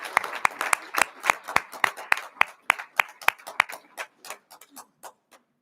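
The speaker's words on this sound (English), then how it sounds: "how about one final round of applause for all of our Music Award nominees?" Applause for music award nominees at a school board of education meeting, a thinning round of separate sharp hand claps from a small audience that slows and fades out over several seconds.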